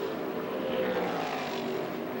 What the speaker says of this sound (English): Well, Vince, I just heard that audio from that engine. It's not electrical